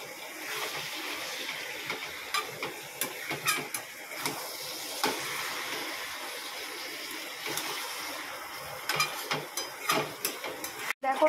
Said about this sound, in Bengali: এবার এটাকে ভালো করে নেড়ে চেড়ে মিশিয়ে নিতে হবে।